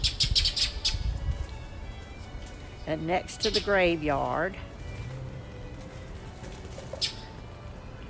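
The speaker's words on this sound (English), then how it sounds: "I love this that all the birds are going crazy right now." Birds chirping outdoors at the Joseph Grice House in Portsmouth, Virginia, on Halloween: bright, quick tweets cluster at the start and return briefly near the end, with a person talking in the middle.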